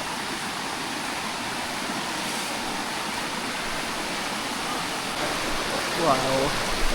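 A river rushes steadily along a hiking trail on the Laiban trilogy route, a continuous broadband wash of flowing water that holds evenly throughout, with a brief faint whistle-like sound near the end.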